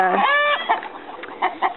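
A rooster clucks and warbles in a run of short, close calls, the first longer and drawn out, the rest quick choppy bursts.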